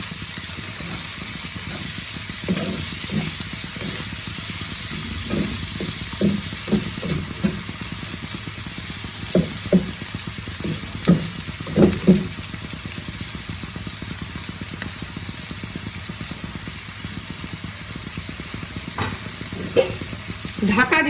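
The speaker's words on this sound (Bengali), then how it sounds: "দেখো টমেটোটাকে আমি কুচিয়ে রেখেছি, সেটা আমি দিয়ে দিলাম। আবারও ভালো করে ভেজে নেব।" Chopped tomato frying in a pan for a Bengali muri ghonto, a continuous moderate sizzle broken by scattered stirring scrapes and clinks, with no talking.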